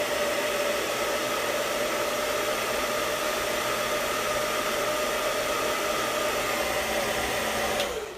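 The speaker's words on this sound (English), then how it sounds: "You just now getting in the blow dryer?" Handheld blow dryer drying hair, a steady loud close whooshing roar that holds constant for several seconds before cutting off at the end.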